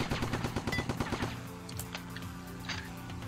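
Rapid enemy gunfire in the War Brokers battle royale video game: a fast, steady automatic burst for about a second, then scattered fainter shots and game noise.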